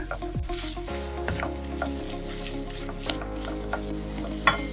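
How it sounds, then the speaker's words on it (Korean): Gochujang being stir-fried in a pan for rosé tteokbokki: a low, steady sizzle with spatula scrapes and light clinks scattered through it, close and moderately loud, no voices. "고추장도 같이 넣어 볶아줍니다"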